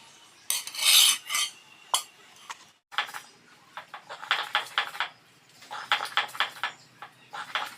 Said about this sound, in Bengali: চুলা থেকে নামিয়ে পাটায় পিষে মজাদার সুস্বাদু থানকুনি পাতার ভর্তা তৈরি করার